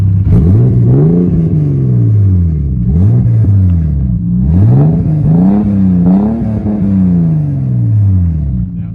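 A turbocharged Toyota Supra engine revs up and down in repeated surges, a loud, close, throaty rumble with rising and falling pitch and no talking.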